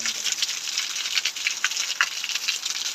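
Heavy rain falls steadily in rural Punjab, Pakistan, a dense continuous patter with scattered louder drops, close and without speech.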